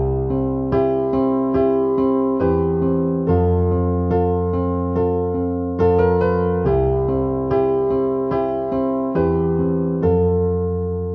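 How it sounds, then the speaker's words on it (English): Solo piano plays the intro accompaniment to a song, steady sustained chords with a repeating rhythmic pattern, clear and close with no talking. "The piano accompaniment of the intro and verses both start off the same and they sound like"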